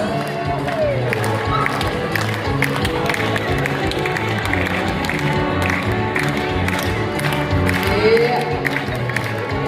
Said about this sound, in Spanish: Eso, acompañamos con las palmas.